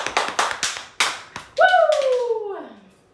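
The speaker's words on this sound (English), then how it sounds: "clap, clap, clap, clap." A quick series of about six crisp hand claps, close and loud, is followed by a sliding, whooping vocal cry that fades out.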